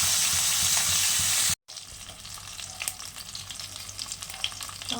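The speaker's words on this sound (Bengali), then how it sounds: "তেলা মাছটা ভাজা হয়ে গেছে এবার তুলে নেবো কড়াকড়ি ভাজতে হবে এই মাছ" Chela fish frying in hot oil in a pan gives a loud, dense sizzle, then a brief cut to silence, then a quieter crackling fry with occasional stirring scrapes.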